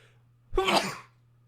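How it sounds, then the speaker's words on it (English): A single sneeze bursts out close and clear, a short sharp explosive breath that fades within half a second over a quiet background hum. "we have got to sneeze so bad"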